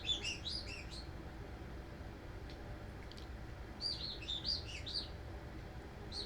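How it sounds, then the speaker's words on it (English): A pet bird chirps in short bright bursts in the background of a quiet room, two clusters of quick tweets separated by a pause, faint and distant. "That's little Maui chirping again in the background"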